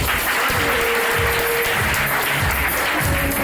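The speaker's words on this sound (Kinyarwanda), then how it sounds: "Tanga amashyi kwa Yesu" A crowd at a church wedding claps in a dense, steady burst of applause with a faint tone running underneath.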